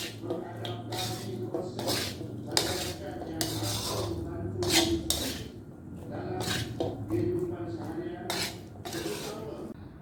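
A spoon stirs a Malaysian cucumber pickle sprinkled with roasted seeds in a bowl, giving repeated clinks and scraping strokes at a steady, moderate pace, close by.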